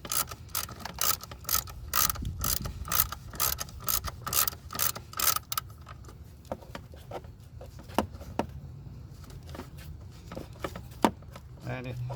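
Close ratchet on a long extension clicks in a quick, steady series of pawl ticks while breaking a bolt loose on a 2003 Toyota Avalon 3.0 L V6, then slows to a few scattered metallic clicks and knocks.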